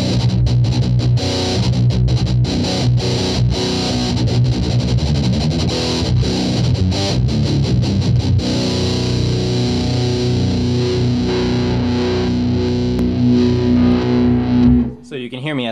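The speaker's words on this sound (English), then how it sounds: "The pocket metal muff from Electro Harmonix, the Nano series, amazing metal sounds." Electro-Harmonix Pocket Metal Muff distortion pedal, a Nano series unit with mid scoop switched to its mid setting, driving a loud, dense, continuous high-gain metal guitar tone with chugging riffs that settle into a held note before stopping.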